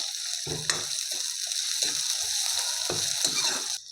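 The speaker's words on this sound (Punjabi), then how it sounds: "ਪਿਆਜ਼ ਨੂੰ ਵੀ ਆਪਾਂ ਹੁਣ ਵਧੀਆ ਜਿਹਾ ਭੁੰਨ ਲਾਂਗੇ" Onions fry in a pan with already-browned ginger and garlic for a potato and carrot curry, giving a steady hot sizzle broken by several scraping stirs of a spoon.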